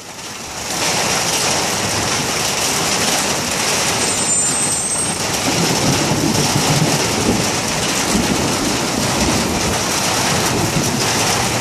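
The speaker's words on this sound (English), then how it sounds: "And today's weather, lots of lightning, mad rain." Heavy, steady rain pours down in a thunderstorm, a loud continuous wash with low rumbling underneath that sounds like distant thunder, going on for over ten seconds with no talking.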